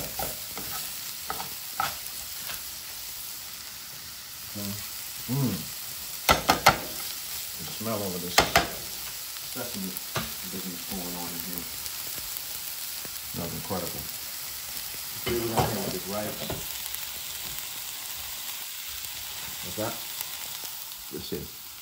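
Vegetables sizzle in a hot pan for teriyaki chicken and broccoli, a soft, steady frying hiss broken by intermittent scraping and clattering stirs.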